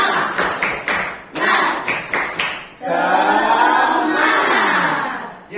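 A primary school class does a rhythmic clapping chant, with sharp group claps in a quick pattern and then a loud burst of children's voices chanting together.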